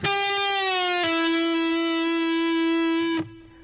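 Distorted electric guitar plays a sustained bent note, re-struck once partway, ringing steadily with rich harmonics before cutting off near the end, alone without talk.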